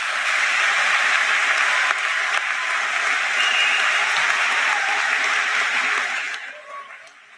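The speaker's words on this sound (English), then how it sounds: "give your mom and dad a round of applause" Graduating seniors and guests at a high school graduation ceremony give a long, steady round of applause for parents, a dense wash of clapping from a large audience that holds for several seconds before tapering off.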